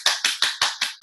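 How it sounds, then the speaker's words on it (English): Applause from a Sunday Assembly audience comes in six sharp, evenly spaced bursts over about a second, close and loud, with no voices over it. "give a big round of applause again before our song"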